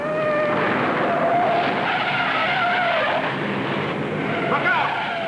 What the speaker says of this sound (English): There are cars spinning all over the racetrack.